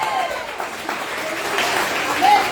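A church congregation applauds during a Spanish-language sermon, a soft, diffuse wash of clapping that swells slightly toward the end, with faint voices mixed in.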